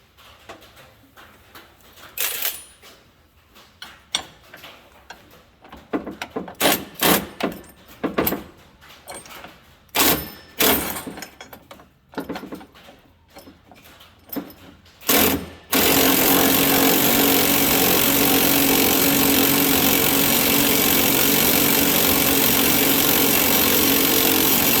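Metallic clinks and handling knocks come first while a front shock bolt on a Jayco Seneca motorhome is fitted, then a loud, steady power tool runs without a break for about nine seconds to tighten it.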